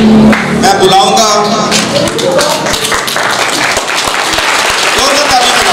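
Audience applause at a live stage programme at a school event, a dense wash of clapping running steadily throughout with a voice briefly speaking over it near the start.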